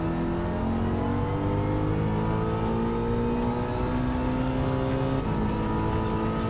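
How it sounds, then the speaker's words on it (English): A V8 race car in Gran Turismo 7 revs hard along Conrod Straight, its engine note climbing steadily in a loud, continuous drone with layered rising harmonics and no voices. "revving right out here on Conrod by the look of it"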